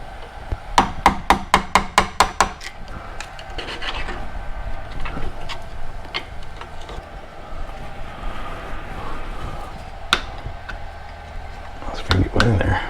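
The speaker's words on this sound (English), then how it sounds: "So I'm just gonna have to kind of tap it out of there, I guess, with a screwdriver," A screwdriver taps an old bushing out of a leaf spring on a golf cart, sharp rapid metal knocks in a quick series, then scraping and scattered clinks as someone talks.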